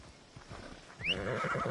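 A horse in Assassin's Creed Odyssey whinnies once with a rising, bright call over a low background rumble; the neigh comes in the second half and sounds fairly close.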